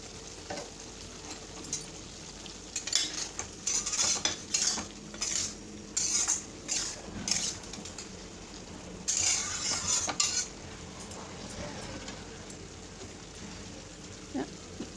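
Spoon stirring bitter gourd and potato curry in a pan after raw mustard oil goes in, a series of scraping, clinking strokes with a faint sizzle underneath, fairly quiet and close.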